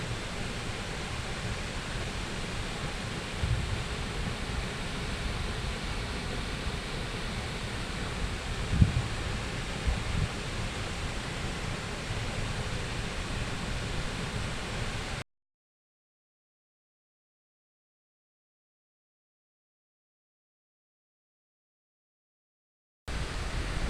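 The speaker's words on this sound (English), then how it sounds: "I'm at today's goal, this waterfall, a couple of kilometers up the hill" Waterfall at night in icy hills, a steady broad roar of falling water heard close and loud for about fifteen seconds, then a silent gap before the rush returns.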